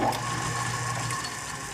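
A South Bend lathe turning a countershaft pulley runs with a steady mechanical whir and faint rhythmic clicking, close and continuous, with a short squeal at the start.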